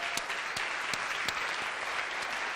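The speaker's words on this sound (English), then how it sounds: "so please a big applause" Audience applause for an award for best woman engineer at a technology park event in Ljubljana, a steady wash of many hands clapping throughout, fairly distant and even with a few sharper claps standing out.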